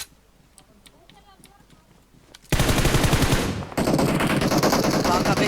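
Video game gunfire: after a quiet stretch with faint clicks, rapid automatic weapon bursts erupt loud and close, briefly break off, then resume in a dense continuous stream.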